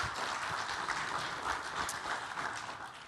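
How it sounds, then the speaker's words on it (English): Dense audience applause at a health summit, a steady wash of many hands clapping at moderate distance, even and sustained, fading slightly at the end. "can we get another applause for that?"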